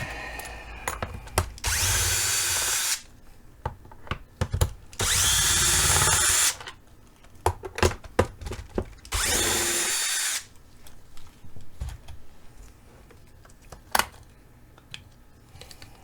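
A power screwdriver backs screws out of a SEBO E3 canister vacuum cleaner during servicing, with three sustained whirring bursts of a few seconds each, close up, separated by clicks and handling noises and no talk.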